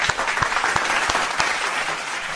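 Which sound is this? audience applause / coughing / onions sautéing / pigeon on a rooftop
audience applause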